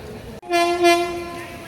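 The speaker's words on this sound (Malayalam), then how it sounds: "അവിടെ നേരെ എതിർ ദിശയിൽ ഒരു ട്രെയിൻ വരുന്നുണ്ട് കേട്ടോ" A train horn sounds a long, steady tone after a brief dropout, loud and sustained over rumbling rail noise.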